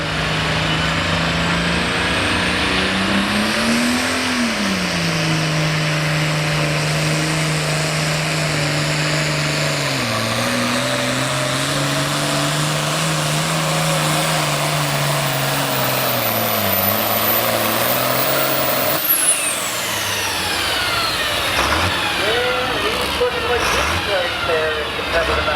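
A modified pulling truck at a tractor pull holds a loud, sustained engine roar, pitch climbing and dipping as it builds boost before cutting off near the end, with an announcer's voice over it.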